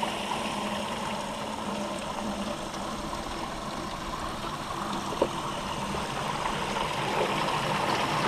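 Water rushes steadily through an Eco Highbanker sluice with a pump running, a constant close wash of flow with no pauses and no talking.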